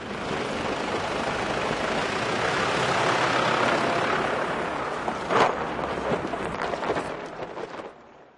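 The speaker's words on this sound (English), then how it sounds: "Here again in the correct gear. Low range second and gentle use of the accelerator." A 4x4 off-road vehicle climbs a steep slope in low range second gear with gentle throttle, its engine a broad steady drone that swells, eases, then carries on with a brief louder thump before fading out.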